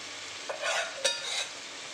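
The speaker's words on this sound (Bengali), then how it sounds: "শুটকি মাছের সাথে পুরো সবজিটাকে ভালো করে এবার নাড়াচাড়া করে নিচ্ছি" Vegetables and dried fish are stirred in a hot frying pan: two quick scraping strokes of the spatula over a soft, steady sizzle, heard close and alone.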